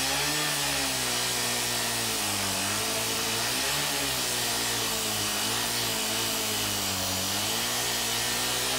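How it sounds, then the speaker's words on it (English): Power saw at full throttle cutting through an American Series 2000 padlock, a loud continuous high-pitched roaring grind with slight rises and dips in engine pitch throughout. "Once a groove is started, throttle the saw to full RPM and continue through the cut."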